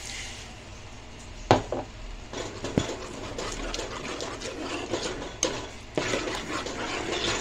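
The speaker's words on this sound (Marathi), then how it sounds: "याच्यामध्ये अर्धा कप आपण पाणी टाकूया।" Half a cup of water poured into a simmering drumstick curry with masala paste, then stirred, giving a steady liquid wash with a few sharp knocks of a spoon against the pot, no talk.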